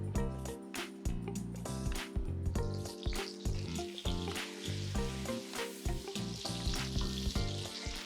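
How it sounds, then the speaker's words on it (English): Butter heating in a pan for a miso mac and cheese crackles and sizzles with a busy, uneven patter of pops, close by and without talk. "just when that butter is starting to foam and sizzle a little bit"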